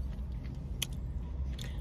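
Someone chews tacos up close during a twelve-taco eating challenge, with wet mouth sounds and a few sharp crunchy bites over a constant low background rumble.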